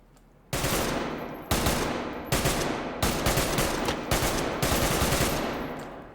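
Mark 17 rifle chambered in 7.62x51 firing in the tactical shooter Ready Or Not, with about seven sharp, loud bursts and single shots separated by brief pauses. Each crack rings out into a short decaying tail, with no voices.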